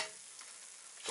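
Oil-soaked bread fries in a pan of freshly heated oil for sandwiches, giving a continuous, even crackling sizzle, close but fairly soft, with no voices.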